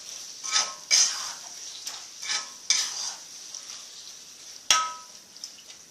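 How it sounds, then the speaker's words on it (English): Potatoes being stirred into masala in a pan for Chinese aloo, with a spoon scraping and clinking against the pan in several separate strokes over a faint sizzle. No one speaks. "I'm adding potatoes. While adding potatoes, add it slowly and mix it in between."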